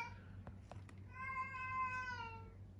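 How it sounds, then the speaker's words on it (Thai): A cat meows clearly, one drawn-out cry rising and falling, after a few short knocks, with a low steady hum underneath, heard while a gas airsoft pistol is being fitted with a recoil buffer. "แมวร้องครับแมวร้อง"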